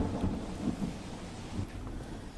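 Monsoon rain falls in Palanpur, Banaskantha, a continuous soft hiss of rain with low, muffled rumbles of thunder beneath it, fairly faint throughout.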